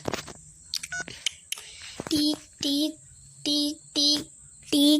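Electronic phone-dialing beeps in a driving simulator video game, a quick run of short tones followed by several longer repeating ring tones, with soft voices murmuring underneath.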